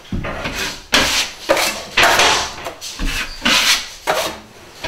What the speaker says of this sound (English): Wipe off any excess mud.